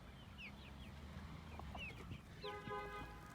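Chickens cluck and a rooster calls in a village coop in Taşköprü, Kastamonu, among February-hatched young birds eating corn, giving soft overlapping clucks and chirps over a steady background rumble, with a brief honking tone near the end.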